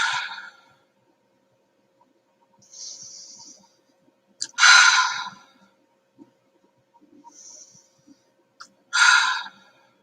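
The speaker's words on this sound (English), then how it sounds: "just take in 3 deep breaths in and out" Three slow, deep breaths, each a loud airy exhale close to the microphone, spaced several seconds apart with quieter inhales in between and near silence around them.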